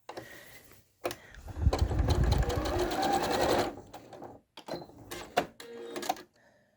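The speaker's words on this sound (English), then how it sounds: "I'm going to double stitch along that seam line at each corner just to give that seam a little extra strength" A sewing machine double stitches a fabric seam at the corner of a table runner, running in a short burst and then a longer steady run, followed by a few brief stitches and clicks, close and moderately quiet.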